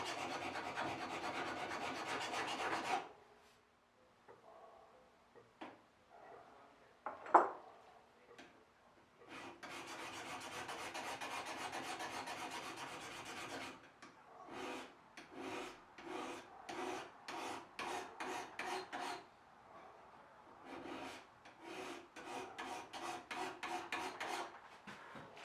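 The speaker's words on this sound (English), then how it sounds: "We're filing. We're filing." Steel knife blade being hand-filed with a metal file, long rasping strokes in bursts, a steady run of repeated strokes, then a pause and quicker rhythmic passes; close and fairly loud, no talking.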